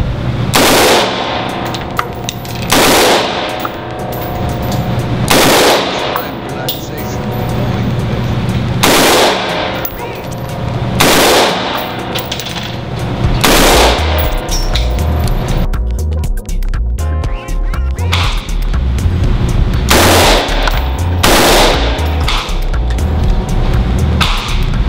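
Rapid bursts of loud, close gunfire crack out roughly every two to three seconds over a steady background bed, with no voices heard.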